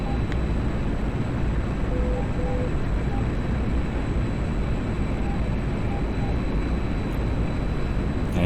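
A jet's emergency afterburner roars steadily during a flight-game dogfight against Phantoms and A-10s, a loud, dense, unbroken rushing noise that fills the whole stretch without pause.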